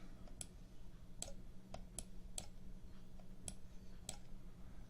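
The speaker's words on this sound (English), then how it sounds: "You notice I'm clicking and letting go in between" A computer mouse is clicked repeatedly during on-screen document signing, giving about eight sharp, close, distinct clicks at irregular intervals over a quiet background.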